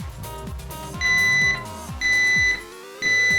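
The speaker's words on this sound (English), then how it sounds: "a carbon monoxide detector and a smoke detector, which is state of the art" Three loud electronic smoke alarm beeps, about a second apart, each a piercing steady tone sounding over a jumble of low background noise.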